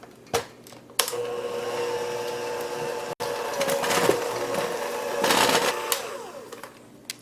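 Electric mixer blending dry ingredients into lemon ricotta cookie dough, a steady mid-level motor whir running through most of the stretch, with a short break and some louder grinding surges near the end.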